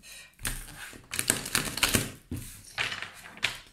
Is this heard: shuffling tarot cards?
yes